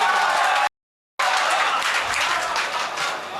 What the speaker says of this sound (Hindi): जोरदार तालियों से इस्तकबाल करें आप।